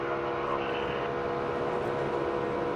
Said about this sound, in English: Now you can hear the engine start to bog back down until that car gets back to the back bumper of Ryan Blaney.